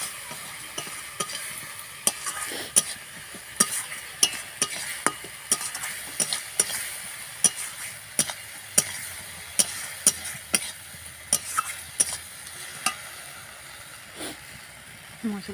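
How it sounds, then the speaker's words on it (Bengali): Onion, ginger-garlic paste, tomato, salt, chilli and turmeric masala sizzles in oil with a splash of water, while a spoon strikes and scrapes the pan in steady, repeated clinks and a voice talks faintly. "লঙ্কা, হলুদ দিয়ে হালকা করে জল দিয়ে নেড়ে নিচ্ছি"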